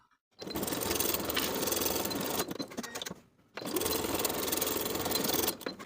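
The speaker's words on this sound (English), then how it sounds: "Sew the back waistband in place as pinned with a 5/8 inch seam allowance." A sewing machine runs in two long, steady stretches with a short pause between them, stitching a linen shorts back waistband in place with a 5/8 inch seam allowance, close and continuous with no speech.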